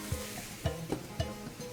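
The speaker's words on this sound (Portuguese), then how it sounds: "Eu vou adicionar todas elas junto com o meu feijão" Seared meats are stirred into a pot of beans for feijoada, with a soft sizzle underneath and three or four evenly spaced spoon scrapes against the pot; no one speaks.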